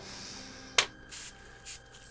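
An airbrush sprays paint after its needle has been cleaned of dried paint: one sharp short burst, then two fainter brief hisses, all close and quiet.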